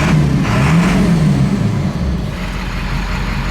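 A Ford F250 with a 7.3 Powerstroke diesel and a fresh performance tune revs loudly up close, a steady rough drone that swells and then eases back to a lower idle.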